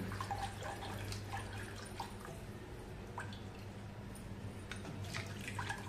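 Quiet, wet sloshing and light splashing as curd mixed with water is churned into buttermilk, with soft irregular drips and swishes and no voices.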